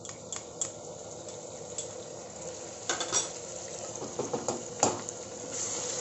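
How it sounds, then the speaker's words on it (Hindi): Ginger garlic paste frying with onions in a pan, a low crackling sizzle broken by sharp stirring scrapes and clinks of a spoon against the pan, moderately close and without speech. "भून लेते हैं इसे भी कुछ सेकंड के लिए"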